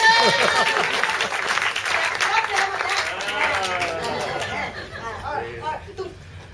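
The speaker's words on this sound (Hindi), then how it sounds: "आप सब सहमत है तो ताली बजा दीजिए।" A theatre audience claps in a burst of applause mixed with crowd chatter and murmuring, loud at first and gradually thinning out as the clapping fades.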